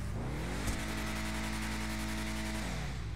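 A Bravado Hotring Hellfire race car in GTA 5, naturally aspirated yet with a supercharger-like whine, revs hard in a sustained, loud, rising and falling engine roar with no talking.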